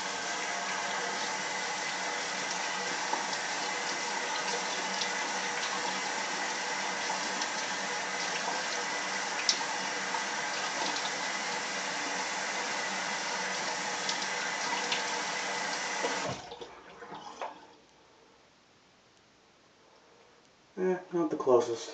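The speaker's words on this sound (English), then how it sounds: "So I'm just going to do cold water real quick." Cold water runs steadily from a bathroom tap during a straight razor shave, a loud continuous rushing stream that cuts off abruptly partway through, followed by quiet and a few brief handling noises near the end.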